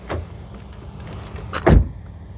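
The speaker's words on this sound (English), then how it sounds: "let's listen to the sound of the closing door." The door of a 2025 Toyota Crown Signia XLE swings shut with a loud, close, solid thud, preceded by a softer latch noise, with no voices present.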